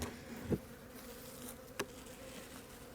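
Honey bees in an opened winter colony, heard as a faint, steady buzzing hum close by, with a couple of brief louder thumps, and no talk.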